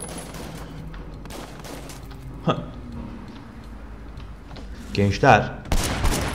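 Gunfire in Sleeping Dogs, with a sharp shot partway through and a burst of loud cracks near the end, while someone talks over the game sound.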